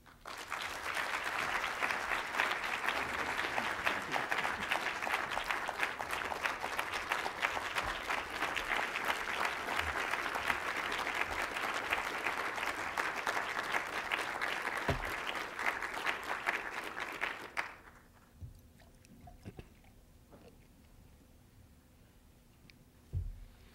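Lecture audience gives a sustained round of applause to welcome the Reverend Ambassador James A. Joseph to the podium; dense, steady clapping fills the room, then stops abruptly into quiet room tone with a few faint scattered claps.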